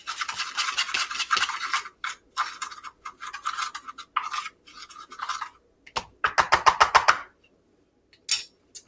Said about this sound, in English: Use one of these to just stir it up a little bit.